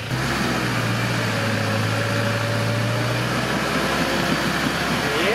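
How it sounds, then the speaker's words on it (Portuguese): A Troller T4 off-road vehicle with a 2.8 engine runs steadily and loud on a rough trail, its drone constant throughout with a rising whine near the end, as voices speak over it. "Ó, Juju, quando você começar a acelerar, não pode botar o pé na embreagem."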